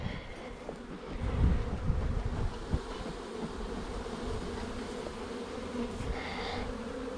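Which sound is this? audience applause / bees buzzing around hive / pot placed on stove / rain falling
bees buzzing around hive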